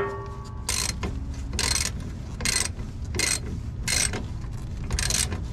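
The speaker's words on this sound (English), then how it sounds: "Now I'm gonna go ahead and tighten that on there." A hand ratchet tightens a nut or bolt while installing a Timbren suspension enhancement system on a vehicle, with repeated short bursts of rapid clicking at a steady rhythm, close up with no talking.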